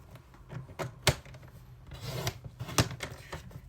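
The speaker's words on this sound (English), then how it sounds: "Just going to go over twice because it is a bit thicker, this cardstock, and my blade is getting a bit old." A paper trimmer with an aging blade slicing through thick cardstock in two passes, giving rasping scrapes and sharp clicks up close, with no talking.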